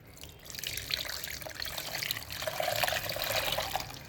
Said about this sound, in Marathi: हे बघा गार पाणी टाकते.